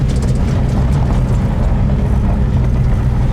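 A 1965 Chevrolet El Camino engine idles steadily with a deep, continuous low rumble, loud and close, with no pauses and no talk over it.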